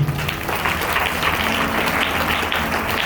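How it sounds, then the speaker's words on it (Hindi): A church congregation claps loudly in a dense, continuous wash of applause that holds steady throughout. "जोरदार ताली बजाओ।"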